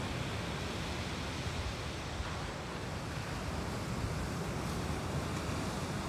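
Steady broadband wash of ocean surf at Irago beach in Japan, continuous and even with a choppy wind-ruffled surface, no distinct breaks standing out.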